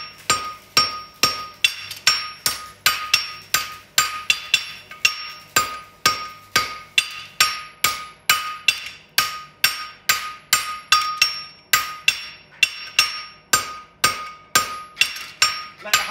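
Sharp metallic hammer blows ring out in a steady, even rhythm, dozens of strikes on steel over an anvil while forging horseshoes, with no talking.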